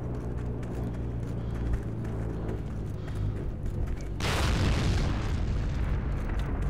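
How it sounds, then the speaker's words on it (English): A tank bombards a position in a battlefield video game, a deep, heavy explosive boom rolling in partway through over a steady rumble of background combat noise. "Tank seems to be bombarding it."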